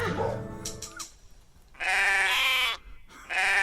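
Sheep bleating in a podcast jingle: a short musical opening, then two loud, sustained, wavering bleats, close and clear, separated by a brief pause.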